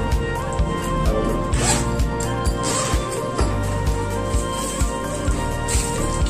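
A zipper on a new laptop's carry bag is pulled open in a run of short, loud, rhythmic rasps, about a dozen close strokes, with no speech over them.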